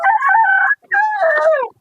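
A Texas breed rooster crows nearby, two loud, close, drawn-out cock-a-doodle-doo phrases separated by a short pause, with nothing else heard.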